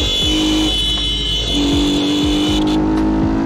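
Loud, steady engine roar from a nearby Yamaha R15 sport motorcycle, with the pitch holding high and shifting slightly as it revs.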